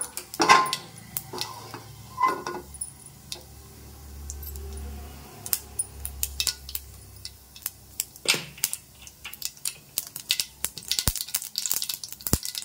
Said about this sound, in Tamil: எண்ணெய் சூடானதும் கடுகு சேர்த்துக்கலாம்